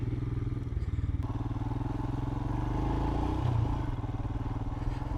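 Royal Enfield Himalayan motorcycle off-road with its rear wheel slipping for lack of traction control, a steady close engine drone with rapid pulsing and clattering, swelling briefly as the throttle opens.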